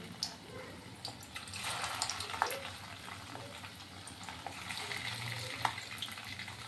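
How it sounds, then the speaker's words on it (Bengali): Steady crackling sizzle of semolina fritters frying in hot oil over medium heat, with occasional sharper pops and light clinks, continuous and close by. "এইভাবে একে একে সবগুলো সাম্বার আমি ভেজে নিব।"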